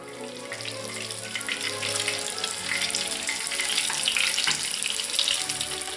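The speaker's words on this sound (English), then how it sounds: "And it's starting to sizzle, so it's ready." Breadcrumbs dropped into hot frying oil to test it before frying Scotch eggs, giving a steady bright sizzle and crackle that holds for several seconds, close and fairly loud, with no talking.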